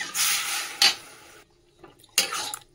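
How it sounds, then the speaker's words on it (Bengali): Cashews and almonds being chopped into small pieces with a knife, heard as close, brisk scraping and cutting bursts, two longer strokes separated by a short pause, with no talking. "ততক্ষণ আমি এগুলো কেটে নিই ছুরি দিয়ে টুকরো টুকরো করে।"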